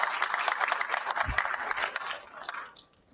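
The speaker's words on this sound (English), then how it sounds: "let's give them another generous round of applause" At a town hall forum on quarterly budget and economic performance, an audience applauds in a dense round of clapping that thins and fades out over about three seconds.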